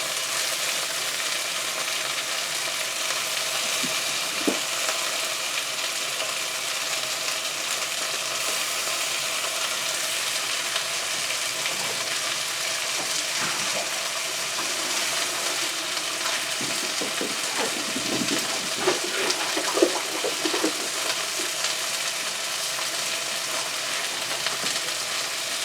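Soaked dried chilies fry in a pan of hot oil, giving a steady, even sizzle that carries on throughout, with a few faint clicks and stirring scrapes now and then.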